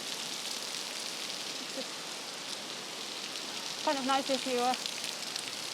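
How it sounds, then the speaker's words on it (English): Heavy rain falling on a street in Geylang, Singapore, a dense, steady hiss filling the whole stretch, with a voice briefly speaking over it near the end. "listen to the rain"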